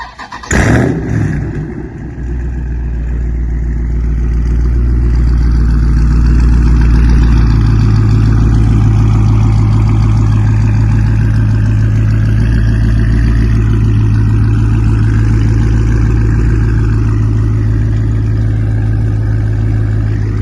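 A loud, tuned catless Dodge Scat Pack with a cold air intake fires up with a sharp start burst, then settles into a heavy, rumbling idle that holds steady and close for the rest of the stretch, with no talking.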